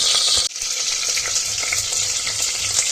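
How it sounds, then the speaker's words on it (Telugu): Oil hisses in a hot pressure cooker while cabbage khichdi is being made, a steady bright frying sizzle with a brief dip near the start and no talk. "అందుకోసం తగినంత ఆయిల్ పోసుకుంటున్నాను"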